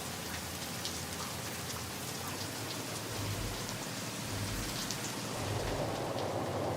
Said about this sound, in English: or the rain hitting the roof.